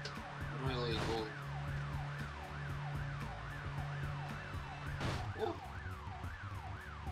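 A wailing siren in the game The Getaway: Black Monday rises and falls steadily throughout, with a low engine drone beneath and a brief voice exclaiming near the start and again around five seconds.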